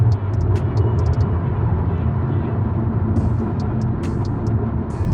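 A 2021 Hyundai Palisade driven in sport mode at highway speed fills the cabin with a loud, continuous low rumble of engine and road noise, dotted with faint high clicks and ticks.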